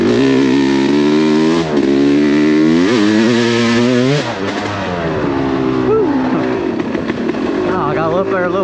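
Yamaha YZ250X two-stroke dirt bike ridden on trails, its engine close and loud, revving up and down in rising and falling bursts, with a brief dip as the throttle is let off.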